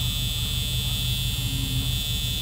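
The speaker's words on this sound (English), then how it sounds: "let me shut the door so we can get rid of this horrible buzzer" A Cougar XR7 convertible's steady high-pitched door-open warning buzzer drones continuously over a low engine idle, with no break in the tone.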